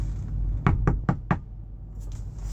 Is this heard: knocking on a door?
yes